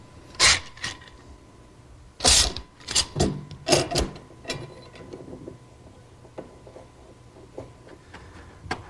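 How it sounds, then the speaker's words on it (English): A wood clamp being tightened on glued cabinet work: a handful of close, clicking, ratcheting and creaking bursts early on, then softer intermittent mechanical ticks fading out. "I'll just clamp it in place until the glue dries."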